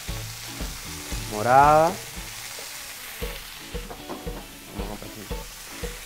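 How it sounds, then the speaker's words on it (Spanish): Cubanelle pepper and red onion sautéing in a pot for a Dominican sancocho sofrito, with a steady sizzle broken by stirring clatter and a short burst of speech partway through. "continúo el sofrito de la preparación, agregamos aquí la jicubanela, tenemos la cebolla"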